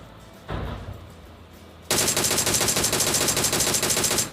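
Automatic gunfire from an enemy player in PUBG Mobile: a short burst of shots first, then a sustained, loud rapid-fire stream of closely spaced shots lasting a couple of seconds before stopping abruptly.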